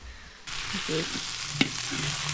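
A stir fry sizzles loudly in a hot pan, the hiss rising abruptly and then holding steady, with one sharp utensil clink partway through.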